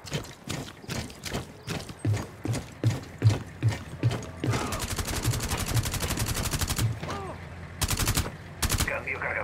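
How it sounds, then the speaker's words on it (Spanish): Magazine reload in the Rainbow Six video game: a run of sharp mechanical clicks and ratcheting clacks, mixed with bursts of gunfire and dense rapid firing in the middle, close and loud. "cambio el cargador"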